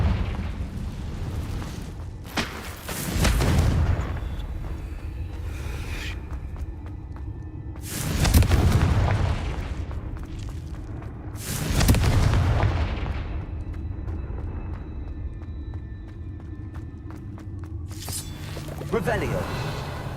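Confringo fire spell blasts in the game Hogwarts Legacy: three heavy booming explosions spaced several seconds apart, each with a long rumbling decay, plus a fainter fourth blast near the end over steady ambient game sound.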